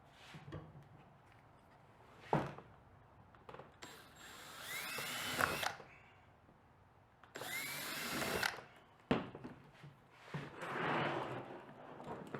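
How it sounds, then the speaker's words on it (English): Power drill boring out spot welds on a car door area during a repair, several short high-pitched whining bursts of drilling separated by pauses, close and fairly quiet overall. "it's often easier to shave them off before drilling them out"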